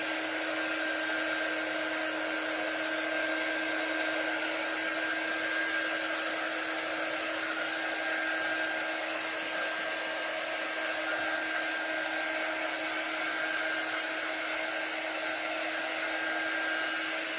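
A hair dryer blows steadily on a wet door hanger craft to dry the damp spots, a loud, continuous whirring hiss with a constant hum that holds unbroken throughout, with no voices.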